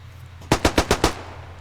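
Five rapid machine-gun shots from a video game, evenly spaced in a tight burst, loud and close against a low steady hum, with no talking.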